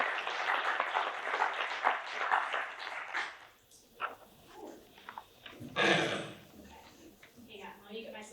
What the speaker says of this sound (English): So please give Eileen a big round of applause.